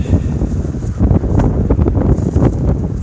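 Strong headwind roars against a cyclist on a red-flag wind day in New Mexico, a steady broadband buffeting rush with gusty surges, loud and close at the microphone.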